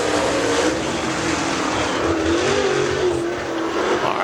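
Super late model race cars roaring around the dirt oval at Dixie Speedway, a sustained engine drone with rising and falling pitch as cars pass at a moderate distance.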